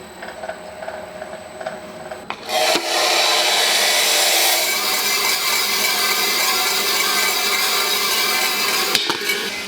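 A coffee roaster drum tumbling a 4.5 kg charge of beans makes a loud, steady rushing rattle, with a faint hum before the drop and an abrupt rise as the beans go in.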